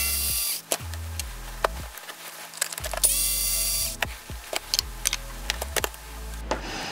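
A small electric screwdriver backs screws out of the axle knuckle of an Axial Capra 4WS RC crawler's Currie F9 portal axle, several short whirring bursts separated by clicks and ticks of the tool and parts, close and loud, no talking.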